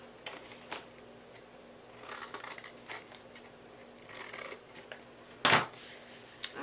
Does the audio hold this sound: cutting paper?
yes